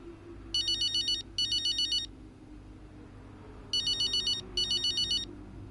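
A phone ringtone in the F1 25 Breaking Point cutscene plays two paired bursts of bright electronic trills separated by a pause, clear over a low background hum.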